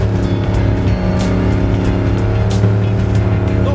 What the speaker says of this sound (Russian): Но это звук двигателя, это удовольствие, это здорово.